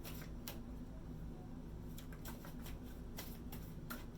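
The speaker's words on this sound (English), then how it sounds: "Sorry, I'm so bad at shuffling." Tarot cards being shuffled by hand during a reading, with soft repeated riffling and brushing taps at an uneven rhythm over a steady low hum, close and fairly quiet.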